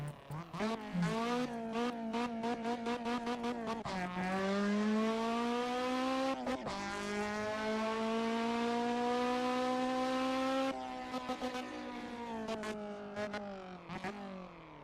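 A Honda S2000 races through traffic in the Assetto Corsa driving game, its engine loud and close, revving high through several gear changes with brief dips between shifts.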